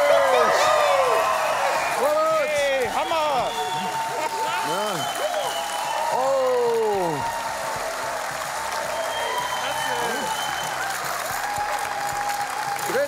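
Loud crowd cheering and sustained applause at a Cyr wheel competition, with excited voices and shouts rising over the clapping throughout.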